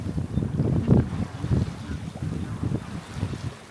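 A sailboat under sail in fresh wind, with steady low rushing of wind and water against the hull, fairly loud and continuous with gusty surges.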